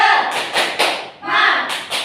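A classroom group performs a rhythmic spirit clap, bursts of clapping and thuds in a patterned beat, near and fairly loud, with voices mixed in.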